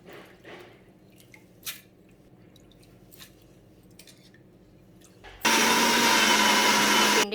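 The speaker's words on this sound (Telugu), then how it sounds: "పోతపిండి మిక్సీ పట్టుకుందాం" Soaked lentils for poornam boorelu batter get a few quiet clinks and wet drips in a kitchen, then a mixer grinder abruptly starts with a loud, steady whirring roar that continues to the end.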